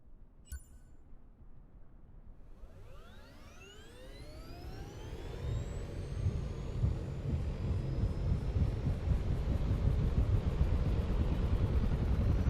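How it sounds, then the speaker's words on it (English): A Dune game ornithopter's engine starts up. A rising, sweeping whine climbs in pitch over a few seconds, then settles into a growing, throbbing roar with a steady pulse as the wings beat faster. "Now, start the engine to get the wings flapping and take to the skies."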